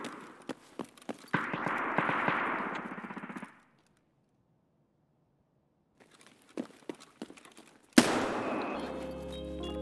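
Gunfire in the video game Escape from Tarkov: a quick burst of sharp shots, then silence, then scattered single cracks and a loud final blast, heard close and with no talk.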